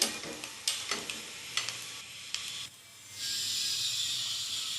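Ridge gourd pieces fry in a pan for sambar, a soft steady sizzle broken by a few light scraping stirs and clinks, then a louder continuous hiss near the end, with no talking.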